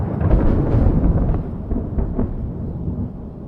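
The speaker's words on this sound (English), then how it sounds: "a crackle of lightning splits the sky and we begin to hear what sounds like a reverberating quake" A deep, rolling rumble of thunder spreads broadly and steadily across a forest, heavy in the low end and fading slightly toward the end.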